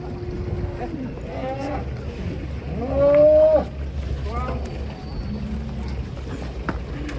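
Cattle being unloaded from a truck give several drawn-out, wavering lowing calls of varying pitch, one louder and closer than the rest, over a steady background rumble.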